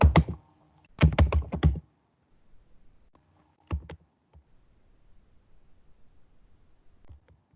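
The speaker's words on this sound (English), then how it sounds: "we can also add them by simply typing their mail IDs" Keys clatter on a computer keyboard as an email address is typed, in quick bursts of close clicks separated by short pauses and followed by sparse faint taps, with no voices.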